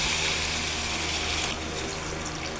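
Water poured into a pan of frying chayote for chicken sotanghon, a close, steady splashing rush that eases slightly after the first second and a half.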